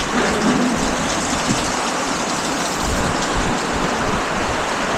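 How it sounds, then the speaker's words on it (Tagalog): Heavy typhoon rain pours steadily in a dense, continuous roar with no pauses, loud and close, like a downpour hitting surfaces all around. "Lakas ang ulan."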